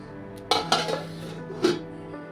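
A metal lid clanks onto a pot of simmering fish roe curry with potatoes, a few clattering knocks of metal on metal followed by a final settling clink, close and fairly loud in a quiet kitchen.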